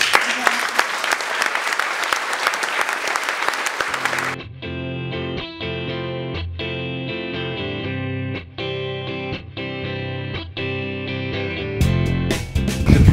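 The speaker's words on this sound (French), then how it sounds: "Tous ces applaudissements." Applause from an audience after a French legislative election speech rolls loud and dense for about four seconds, then cuts off as music with a strong beat takes over, with a brief burst of noise near the end.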